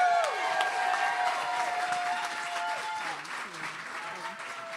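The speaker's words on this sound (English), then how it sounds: "keep your applause going as we welcome on stage Social Justice Partners LA's Executive Director, Christine Margiata" A crowd at an evening Social Justice Partners LA event applauds as a speaker comes on stage, steady clapping that slowly fades, with faint voices and tonal sounds mixed in.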